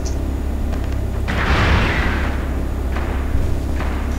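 SPG weapon fires in Arma 2 during a night co-op mission, giving one heavy booming thud with a broad rushing blast that fades slowly, followed by fainter distant thumps.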